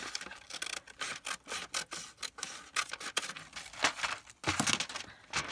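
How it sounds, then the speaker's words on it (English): Paper being cut with scissors for a junk journal belly band made from junk mail, a run of repeated snips and rustling rubs close by, with no talk. "so I'm going to cut this side up"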